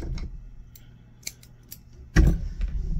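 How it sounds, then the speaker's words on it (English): Scissors snip through crochet yarn thread in one sharp, close cut near the end, after a few faint ticks and small handling sounds in a quiet room. "I'm going to cut my yarn or cut my thread."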